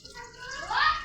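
Water pours into a cooking pot for beef yakhni pulao, a soft splashing gush that swells and grows brighter toward the end, quiet and close.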